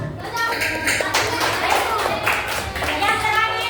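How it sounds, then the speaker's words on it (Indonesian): A fifth-grade class in a lesson claps their hands together. The close, quick claps run steadily for several seconds, with children's voices mixed in. "Oke, tepuk tangan untuk kita semua."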